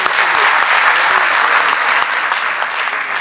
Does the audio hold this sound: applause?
yes